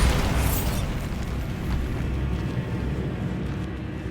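A Bombarda blasting spell explodes in Hogwarts Legacy, a loud broadband boom at the start that rolls into a dense, rumbling wash of debris and noise sustained for several seconds.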